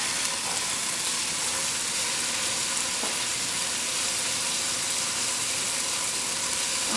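Green chutney fries in a hot pan with oil while cooking a cassava dish, a dense, even sizzle that crackles steadily for several seconds, close and bright, with one faint clink midway and no talk.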